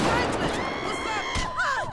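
Guns fire in GTA V with the Redux mod, which overhauls the weapon sounds: broadband shots, blasts and whooshing tones keep up a dense, continuous stream of game action for two seconds.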